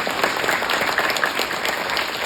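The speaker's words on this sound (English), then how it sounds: "Let's give them a round of applause." An audience at an environmental candidate forum for New York's 109th Assembly District gives a round of applause, with steady, close clapping throughout.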